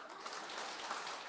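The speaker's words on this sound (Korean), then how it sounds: "박수 한번 쳐봐." An audience at a Won Buddhist temple service (Bukil Gyodang) claps in a brief, soft, even patter of many hands, heard somewhat distant.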